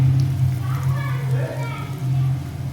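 Chicken potato cutlets sizzle in a pan over a low flame, a soft crackling fry heard beneath someone speaking throughout.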